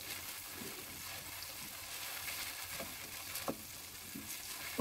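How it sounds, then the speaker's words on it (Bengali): Bitter gourd frying over high heat in a pan, a faint, steady sizzle with a few soft scrapes and clicks from stirring, heard close and alone. "করলাগুলো হাই হিটে কিছুক্ষণ ভেজে নিলাম।"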